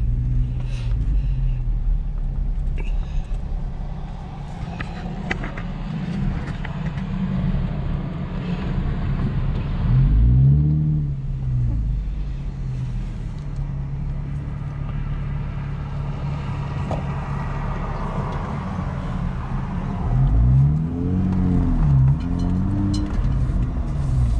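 Car driving through a business park, a steady low engine and road rumble with wind noise throughout, swelling briefly as it passes other vehicles or turns, with no talk.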